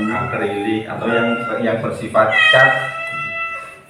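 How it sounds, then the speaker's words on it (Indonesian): A neighbour's cat meows once or twice, a short rising cry breaking through someone talking about painting indoors; the voice carries on over and around it. "Itu kucing tetangga namanya bejo."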